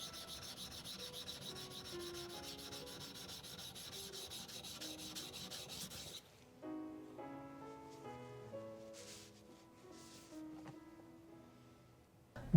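A knife blade is polished on a Shin Nagura natural sharpening stone containing natural stone powder. Steady, soft rubbing strokes last about six seconds under background music, which then continues alone.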